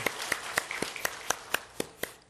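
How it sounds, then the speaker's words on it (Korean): A small church congregation claps in a loose, sparse rhythm, with about a dozen distinct hand claps spread over a couple of seconds, fairly quiet and unhurried. "우리 큰 박수로 환영하겠습니다."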